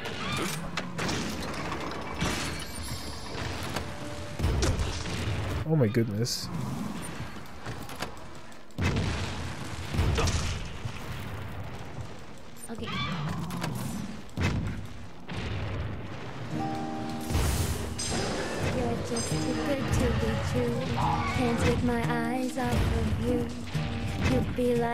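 Cannon firing in Monster Hunter Rise on PC: heavy booms burst out repeatedly amid busy game effects and music, while someone talks over the action.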